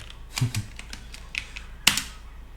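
A handful of sparse, crisp key clicks from a computer keyboard while code is typed in a Biopython session, with one sharper, louder strike near the end; no voices.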